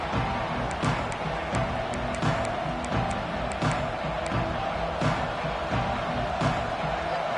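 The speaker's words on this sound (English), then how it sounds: "This crowd ready to make its presence known." Stadium crowd noise in the NCAA 26 college football video game at a Texas A&M kickoff, a steady loud roar with rhythmic bursts of cheering and chanting swelling throughout.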